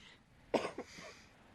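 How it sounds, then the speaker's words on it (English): A single close cough with a quick second hack, brief and sharp against a quiet county committee meeting room. "I'm sorry for the cough."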